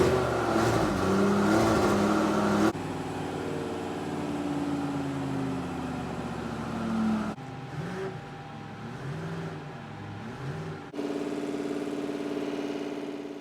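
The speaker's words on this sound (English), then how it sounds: "At the moment, we're just warming the engine up." Rover V8 3500 engine from a Rover P6 running on a dyno as it warms up, a steady engine drone with shifting tones and several abrupt changes in level and pitch, close and continuous throughout.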